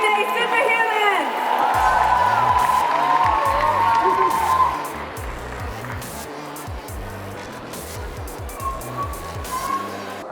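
Audience applause and cheering at a Tetley stage event celebrating everyday superhumans. A dense, steady wash of clapping and crowd noise runs throughout, with music and a voice talking over it.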